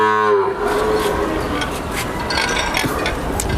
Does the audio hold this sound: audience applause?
no